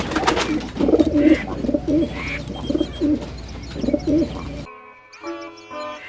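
Pigeons coo in soft rhythmic repeated phrases close by, several bursts in a row, followed by a brief stretch of other bird chirps.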